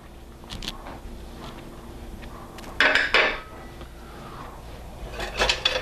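Salt and granulated sugar stirred in a bowl, a soft scraping and clinking of utensil against the dish, intermittent with a couple of louder scrapes, close and alone.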